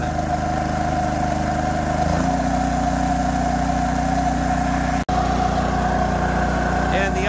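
Kipor KGE3000TI inverter generator running at half load after a carburetor cleanout, a steady close engine drone that settles into a lower pitch partway through with a brief dropout near the end.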